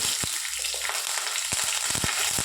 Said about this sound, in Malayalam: നമ്മൾ ആ രണ്ട് തണ്ട് കറിവേപ്പില ഇട്ട് ഒന്ന് പൊട്ടിക്കുക